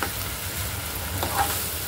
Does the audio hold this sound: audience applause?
no